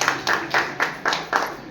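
A group claps in unison at a teachers' training session at a girls' high school in Nimapara, six sharp rhythmic bursts at a steady beat, loud and close.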